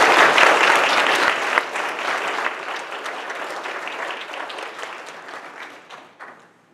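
A lecture audience at UC Davis applauding to welcome a guest speaker, dense clapping from a full room that starts strong and slowly thins and fades out.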